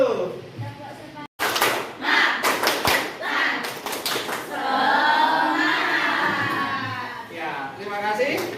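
A group claps out a rhythmic spirit clap in unison, sharp repeated hand strikes with shouting voices mixed in, followed by sustained cheering and chatter from the crowd.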